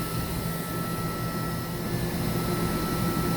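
Mazak HCN 4000-III horizontal machining center from 2013, its spindle spinning at 10,000 RPM with no load, giving a steady, even whine and hum that holds at the same level throughout, with no talking.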